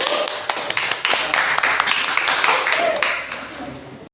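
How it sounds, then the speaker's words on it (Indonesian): Classmates in a classroom applaud together, a dense wash of many hands clapping at close range that runs steadily for about four seconds before stopping abruptly. "beri tepuk tangan untuk teman sekalian"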